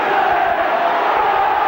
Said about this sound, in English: Roar the crowd. Terrific atmosphere.